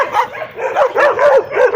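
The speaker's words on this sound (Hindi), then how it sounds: "सारे मुझे देख के भौंक रहे हैं" Several dogs caged at a dog training center bark and yelp close by in quick, uneven bursts, with some whimpering between the barks.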